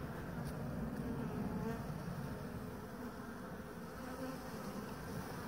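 A swarm of honeybees buzzing steadily during a hive removal, a dense continuous droning hum close by with no voices.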